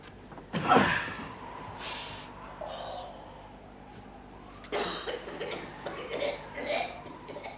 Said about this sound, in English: that's the old woman coughing. She has a funny way of coughing